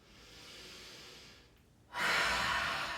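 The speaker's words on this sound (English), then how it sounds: "Take another nice inhale here and exhale it out your mouth." A slow exhaled breath out through the mouth during a relaxation practice, preceded by a quieter breath, the exhale rising suddenly and staying loud and close until the end, with no speech.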